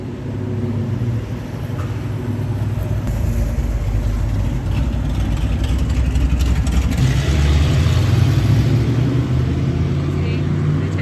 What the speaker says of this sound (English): I love the sound of a big engine